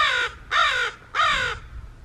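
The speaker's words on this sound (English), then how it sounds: "I know crows communicate between each other when they're not always flying right together." Three loud, harsh crow caws, evenly spaced about half a second apart, close by and alone with no talking.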